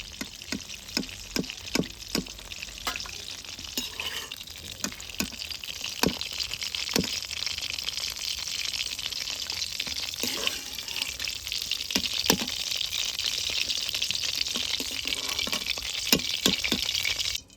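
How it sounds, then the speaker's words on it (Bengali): Pointed gourd pieces fry in oil, a continuous bright sizzle with frequent clicking stirs and pops, steady and close for the whole stretch, with no voices. "পটলগুলো এবার আমি লাল লাল করে ভেজে নিচ্ছি"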